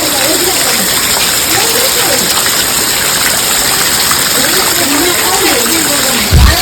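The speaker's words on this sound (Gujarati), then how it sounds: "પાછો વરસાદ ચાલુ થઈ ગયો" First rain of the season pours steadily, a loud continuous wash of falling water with a brief thump near the end; a voice is heard faintly beneath the downpour.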